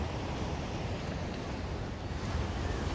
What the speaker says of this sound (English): and the sound of the waves non-stop